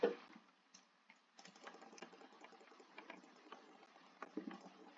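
Rapid, light mouse clicks tap out in quick irregular bursts while a video game is played, faint and close with no voices.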